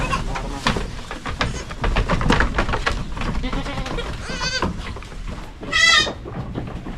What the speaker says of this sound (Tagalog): Yung mga kambing natin dito mga kaprobinsya